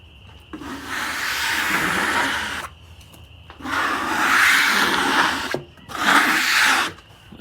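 A freshly sawn walnut slab from a homemade sawmill is scraped at night, three long rasping strokes of several seconds each, close and fairly loud, separated by brief pauses.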